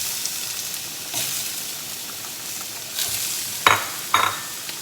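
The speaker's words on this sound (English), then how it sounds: "with my shrimp that is dry and patted down dry, I'm gonna go ahead and put that onto my stove" Shrimp dusted with Creole seasoning sizzling in a hot pan on the stove for oxtail seafood gumbo, a steady close sizzle broken by several sharp utensil scrapes and clinks, with no voices.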